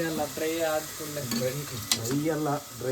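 Egg biryani masala of ground spices, bay leaves and chopped onion frying in oil, with a steady close sizzle, a clatter of utensil stirring through it and a sharp clink near the end.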